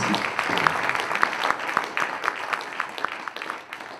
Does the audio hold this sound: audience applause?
yes